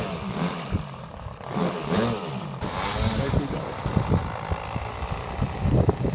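A small model airplane engine runs on a windy day with a steady, buzzing drone, partly masked by rough wind noise.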